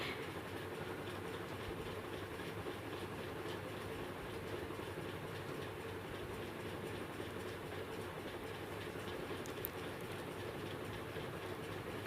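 A sewing machine stitching a saree, running without a break: a faint, even mechanical whir with a fine, rapid rattle, steady in level from start to finish.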